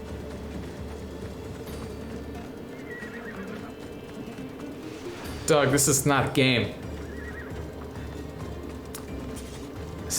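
A horse in the video game Assassin's Creed Odyssey lets out one loud, shaky whinny midway, standing clearly above a quieter game ambience with hooves and birds, while someone talks briefly nearby.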